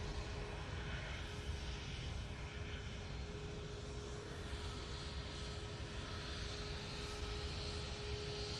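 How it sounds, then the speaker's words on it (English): An EasyJet Airbus A319 jet airliner arriving from Alicante at Manchester Airport gives a steady, broad engine roar that holds at an even level throughout, with a faint constant tone running underneath and no talking. "So this is the EasyJet from Alicante. It's taken 2 hours 36 minutes using their A319."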